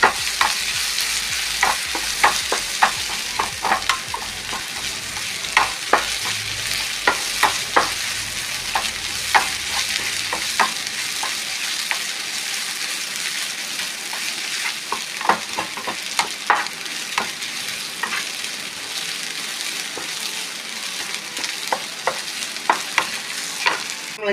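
Green gram stir-fried with grated coconut in a pan, a steady close sizzle broken by frequent sharp scrapes and clicks of the spoon against the pan, with no one speaking.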